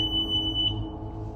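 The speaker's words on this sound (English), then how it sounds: "This machine is beeping nonstop." A steady high-pitched electronic tone drones continuously from an appliance, with a faint low hum underneath.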